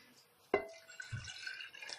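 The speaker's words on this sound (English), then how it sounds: "We're just going to pour it in." Homemade elderberry cough syrup is poured into a glass mason jar, giving a sharp clink at the start and then a soft, trickling splash of thick liquid, close and quiet.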